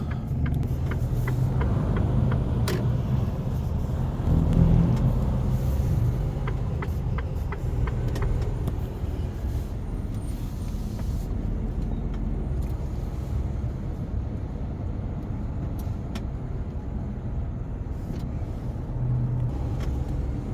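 From inside a logistics driver's vehicle crawling through a morning traffic jam on a road heading toward Busan, a steady low engine and road rumble drones on continuously, fairly quiet and unbroken by speech.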